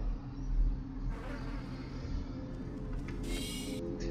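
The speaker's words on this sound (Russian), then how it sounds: "Снова мухи." Flies buzz in System Shock 2, a continuous droning hum that swells and wavers close by over a low electronic ambient hum.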